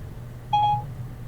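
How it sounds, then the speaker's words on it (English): A phone's Siri voice assistant activates unexpectedly with a single short electronic chime, a clear beep against a quiet low hum. "My phone's Siri isn't like turned on to like listen for me, and she just activated out of nowhere."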